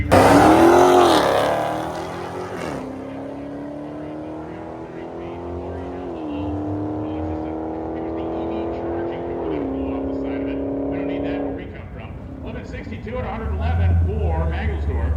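A Dodge drag truck's loud, roaring engine revs hard with rising gear changes, accelerating powerfully down the strip before the sound drops off and crowd noise follows, at a drag racing event.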